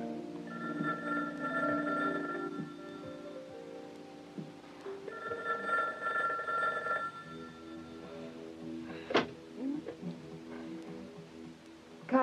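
A telephone rings twice in long, trilling bursts, then falls quiet as softer movement and a brief clatter follow.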